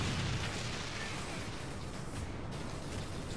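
A grenade explosion in Warhammer 40,000: Space Marine, heard as a dense, roaring blast wash that fills the whole moment at steady loudness, close and without speech.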